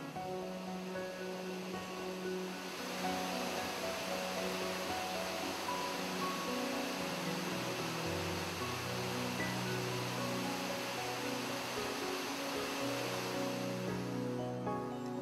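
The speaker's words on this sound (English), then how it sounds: "climb to the next level and a set of splashing cascades" Jungle waterfalls on a Costa Rica eco-retreat pour in splashing cascades, a steady, full roar of falling water that holds unbroken throughout with no voices.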